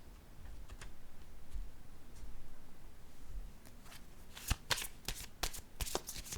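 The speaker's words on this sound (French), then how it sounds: "Je vais piger une autre carte ici." Cards are handled at a table during a card reading, with soft rustles and then a quick cluster of crisp, close snaps and flicks as a card is drawn from the deck, and no talking.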